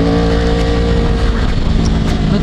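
Yamaha R1 2011 superbike ridden at very high speed, a loud sustained engine roar with strong steady harmonics and rushing wind noise throughout, close to the rider.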